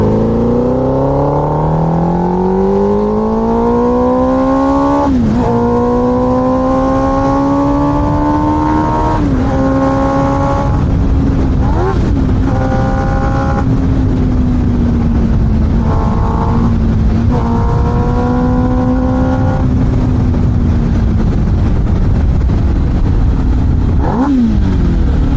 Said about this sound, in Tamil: சூப்பர் பைக் தான் அந்த மாதிரி இருக்குது சவுண்டு.